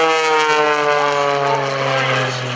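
Mike Wiskus's stressed aerobatic propeller airplane spins downward at the 2014 Greenwood Lake Airshow, a loud, steady engine drone whose pitch sags slightly as it continues.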